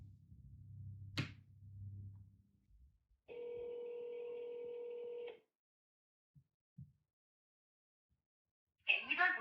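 A mobile phone call being placed, with a faint quick tone, then a steady two-second ringback or dial tone, a few soft clicks, and a voice starting at the end.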